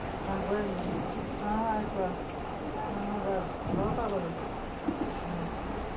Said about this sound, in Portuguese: dá uma olhada nessa chuva. Chuva atrás de chuva.